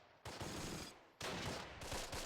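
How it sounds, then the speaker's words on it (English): An infantry gun fires in the WWII strategy game Close Combat: The Longest Day, producing two long, loud, dense bursts of gunfire and explosions separated by a brief dip. "I think they have an infantry gun covering towards us as well, shooting in this direction"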